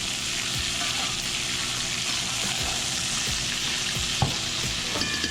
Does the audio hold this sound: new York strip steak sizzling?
yes